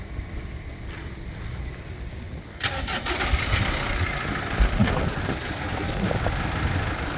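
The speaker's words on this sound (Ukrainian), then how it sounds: "Зараз автомобіль заведемо, ви послухайте, як працює двигун." A Mercedes Sprinter van engine cranks and catches about two and a half seconds in, then runs with a steady, rough rumble over a low background hum.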